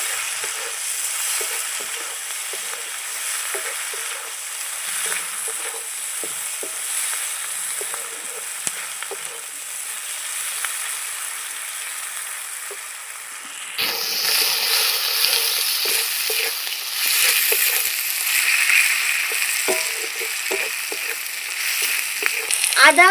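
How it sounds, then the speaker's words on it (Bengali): Chopped onions with whole cumin frying in oil in a pan for a desi chicken curry, a continuous close sizzle with crackles and occasional stirring scrapes, growing louder partway through. "পেঁয়াজটা একটু লাল করে ভেজে নেবো"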